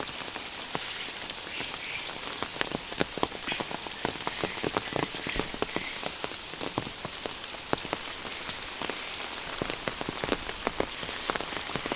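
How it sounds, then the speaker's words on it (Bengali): Rain falls steadily on a village homestead among trees, a dense continuous patter with sharper drops hitting nearby surfaces, moderately loud and even throughout, with no talk. "বৃষ্টি হচ্ছে, বৃষ্টি হচ্ছে।"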